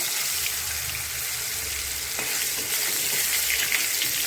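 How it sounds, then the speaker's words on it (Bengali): Potatoes fry in hot mustard oil in a wok, giving a steady, close, bright sizzle that runs throughout with no talking. "আলুগুলো লাল লাল করে এখন ভেজে নেব।"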